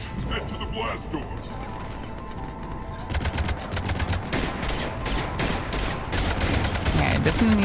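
Ship cannons in Mass Effect Legendary Edition firing in a rapid, sustained barrage of sharp blasts over a dense bed of battle noise, loud and continuous throughout.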